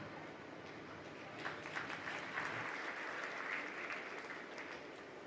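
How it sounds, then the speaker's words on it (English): Steady applause from an audience at a ministerial panel session of a live-streamed energy ministry event, moderately distant and even, swelling slightly midway. "Let us all give a big round of applause to our third ministerial panel"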